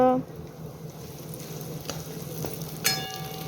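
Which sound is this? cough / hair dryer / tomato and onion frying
tomato and onion frying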